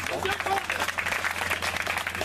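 Crowd applause at a ceremony, close and dense, with voices and chatter running underneath.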